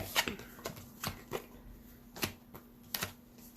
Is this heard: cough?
no